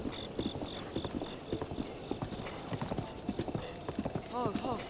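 Horse hooves clip-clop steadily as a horse is ridden in a video game, a fast, even trotting patter under continuous talking, with a short whinny near the end.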